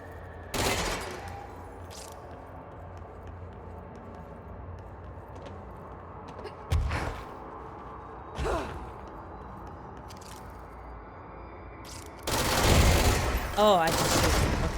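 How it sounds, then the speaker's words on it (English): Gunfire in the video game Control comes as a few sharp shots, spaced out across the clip, with a heavier burst near the end. A person talks between the shots. "Oh, I just shoot him."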